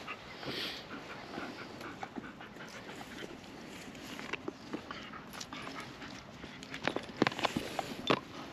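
Dog getting up and moving about nearby during a mine ghost investigation, with soft panting, shuffling paws and scattered clicks and knocks, louder bursts toward the end over a steady low background hiss.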